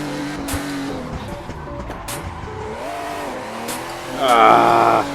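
A virtual car in Assetto Corsa swings into a reverse-entry drift, engine droning and shifting pitch before the tires break into a loud, rising squeal near the end; no one speaks.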